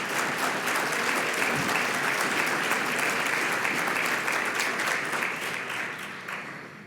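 Sustained applause from a large audience during a lecture on the Constitution and the rule of law, a steady dense wash of clapping that holds throughout and thins slightly toward the end.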